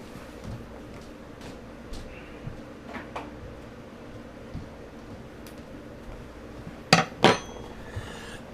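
A spoon being fetched and handled, giving scattered light taps and clatters of metal and dishware before two sharp, ringing clinks close by near the end, with no talking.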